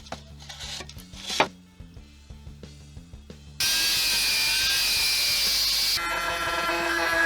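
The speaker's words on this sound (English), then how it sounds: "I'm going to have to cut out the screws that are holding the motor mount to the body" Cutting through rusted screws on the motor mount of a Haier air conditioner: scattered knocks and scrapes, then a loud, steady high-pitched grinding whine that runs unbroken for several seconds and changes tone partway through.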